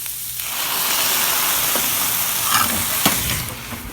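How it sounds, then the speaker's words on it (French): Vegetable mixture in a pan flambéed with whisky, giving a loud, steady sizzling and hissing roar with stirring scrapes throughout, close and with no talk. "Maintenant, on va les flamber à base de whisky."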